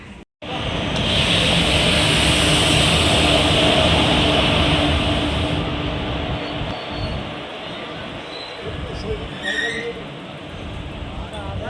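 A Bagh Express passenger train rumbles past nearby, a loud, steady broadband roar that eases off slightly toward the end, with a few faint voices in the background.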